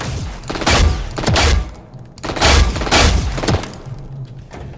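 Spectre submachine gun in the shooter game Valorant firing several rapid bursts, each a dense rattle of shots followed by short pauses, loud and close with no talk.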